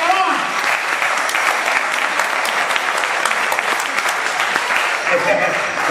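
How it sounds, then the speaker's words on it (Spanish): Applause from a theater audience at a live children's show, steady dense clapping sustained at full level for several seconds with faint sounds underneath. "Vamos a recibirla con un fuerte aplauso"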